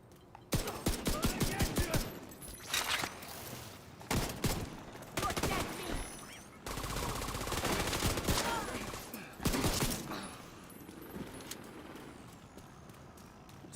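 AUG SMG gunfire in The Division 2, repeated loud automatic bursts and shots over continuous combat noise, with a long sustained rumble in the middle of the stretch.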